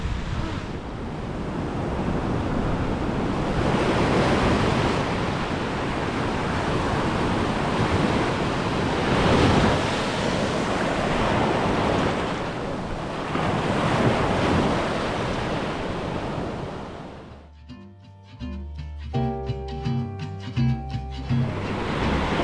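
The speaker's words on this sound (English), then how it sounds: "The waves are maybe a little smaller." Steady roar of small ocean surf breaking and washing in at San Pancho, Mexico, buffeted by wind noise, ending in a brief burst of unrelated clattering sounds.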